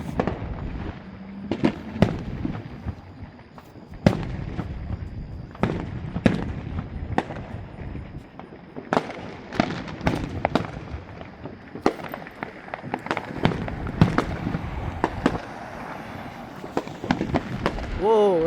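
Fireworks bursting over a July 4th celebration for the country's 250th anniversary, sharp booms and crackling pops coming in irregular clusters, some loud and close, with people talking excitedly throughout.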